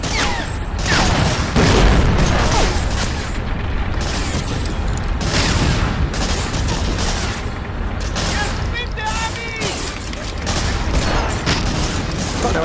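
Medal of Honor: Frontline combat with dense gunfire, repeated sharp shots and bursts packed with mechanical clatter and booms, loud and near through the whole stretch, with a voice speaking at times over the shooting.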